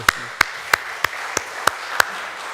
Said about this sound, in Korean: 우리 격려 박수 한 번 더 하겠습니다